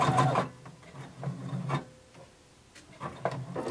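A sewing machine stitches fabric for a Simplicity pattern in short separate bursts, its quick mechanical chatter starting and stopping close by and alone, with quiet pauses between runs.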